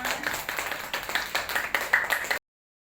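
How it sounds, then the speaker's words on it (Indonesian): A class of students claps together in a short burst of steady, brisk clapping at close range, stopping abruptly after about two seconds. "Kasih aplaus semuanya."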